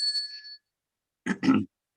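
A small bell rings once with a bright sustained ding that fades within half a second during a virtual Toastmasters meeting, followed after a pause by a short low grunting vocal sound.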